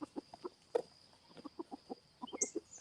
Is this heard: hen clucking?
yes